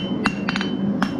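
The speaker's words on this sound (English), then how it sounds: "we turn up the edges, the sharp edge, we hammer it down." A hammer strikes forged metal while the sharp edge of a heart-shaped hook is turned down, giving a few sharp ringing blows, one single hit, then a quick triple, then another single, loud and close.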